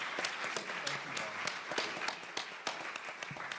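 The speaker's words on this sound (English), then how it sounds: "let's give them another round of applause." An audience claps for a panel of entrepreneurs at a talk on public and private sector industries, a continuous, fairly faint patter of many hands with a few sharper claps standing out.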